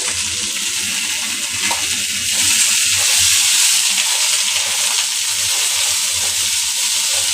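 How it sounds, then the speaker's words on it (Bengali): Onions frying in oil in a pan for a fish and potato curry, a loud, dense, continuous sizzle heard close up with faint stirring underneath and no voices. "এবার পেঁয়াজগুলো দেবো হুম পেঁয়াজগুলো একটু লাল করে ভেজে নিয়ে"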